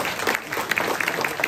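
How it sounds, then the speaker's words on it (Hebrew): Applause from an evening gathering's audience, honoring the youngest member of a group of former tank officers; steady clapping with a crowd texture, moderately loud and continuous for a short stretch. "מחיאות כפיים לצעיר בחבורה."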